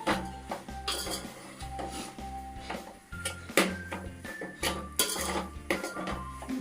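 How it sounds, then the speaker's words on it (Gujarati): A spoon scrapes and clinks against a pot while khichdi with Maggi masala is stirred, giving repeated rhythmic metallic knocks and rubbing strokes, close and fairly loud, with no talking. "બરાબર મિક્સ કરી દઈશું"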